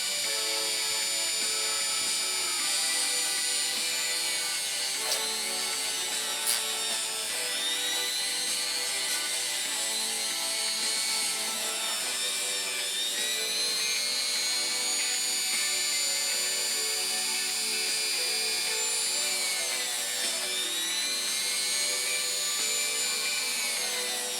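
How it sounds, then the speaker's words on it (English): A Dremel rotary tool polishes the tension discs of a Singer sewing machine, giving a continuous high-pitched whine with a slight wavering pitch as the discs are worked, heard up close and alone for over twenty seconds. "I'll do a little bit of Dremel polishing on these discs."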